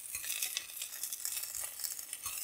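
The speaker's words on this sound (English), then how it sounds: "I'm gonna fry one up and see how they taste." Homemade German bratwurst fries in a pan with a continuous close crackling sizzle that flickers in brief bursts over its short length.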